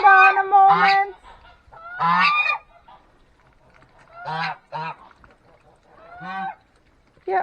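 Muscovy ducks calling in a farmyard, several bursts of loud honking, goose-like calls in quick pairs with short quiet gaps between them, close to the listener.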